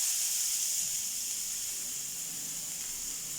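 Chopped onions sizzling in hot cooking oil, a steady, even hiss that stays unbroken and fairly quiet throughout.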